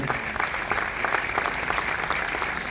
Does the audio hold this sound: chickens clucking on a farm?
no